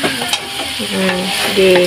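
Black pepper and seasoning are stirred into food frying in a pan: a loud, close, steady sizzle with scraping stirring strokes throughout, and a voice briefly utters one short word.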